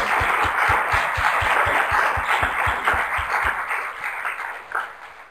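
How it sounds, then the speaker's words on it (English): Audience at a public meeting on Chagas disease applauds panelists, a dense burst of clapping from the room that fades out over the last couple of seconds. "could we please give our panelists a round of applause for"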